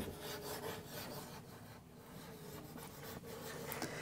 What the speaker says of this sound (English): Now I'm going to erase this